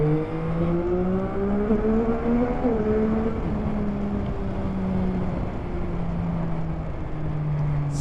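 Engine of a 2023 Yamaha XSR 900 motorcycle revving hard under way, a steady rising and falling drone with strong harmonics that climbs toward the top of the revs, loud and close without talk.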